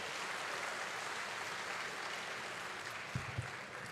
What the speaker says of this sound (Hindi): समस्त को निवेदन करी गोटाए जोरदार ताली देवे तांको पाई।